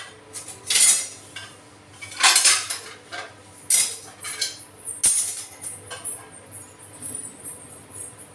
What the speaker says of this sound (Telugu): బియ్యం కడగాలి, బియ్యం కడగాలంటే టీ కప్ కదుకోవాలి.